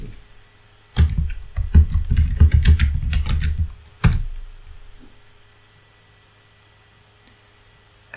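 Fast keystrokes clatter on a computer keyboard as a username and password are entered while setting up a Raspberry Pi server, a dense burst of close clicking followed by a single sharp key press and then quiet.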